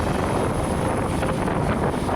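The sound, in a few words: helicopter carrying the President landing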